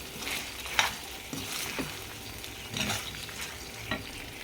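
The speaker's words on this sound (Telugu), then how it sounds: "చూడండి, ఇప్పుడు చికెన్ ఆయిల్లో ఎలా మగ్గిందో." Boiled chicken pieces frying gently in oil on a low flame, a soft, quiet sizzle with occasional stirring scrapes and crackles close by, no voices.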